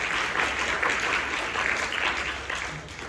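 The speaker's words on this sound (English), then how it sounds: "give Celine some applause" An audience at a women-in-tech talk breaks into steady applause, a dense even patter of many hands lasting about three seconds, thinning a little toward the end, with no speech over it.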